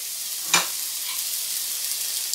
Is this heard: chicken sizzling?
yes